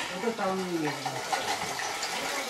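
Inside a cave passage called the drummer shower, water pours and drips heavily in a steady, fairly faint hiss, with voices murmuring faintly alongside.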